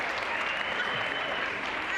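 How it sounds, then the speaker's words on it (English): An audience at a business summit gives a volunteer a round of applause, a dense, sustained burst of many hands clapping at a steady, full level without pause. "Give Marie a round of applause."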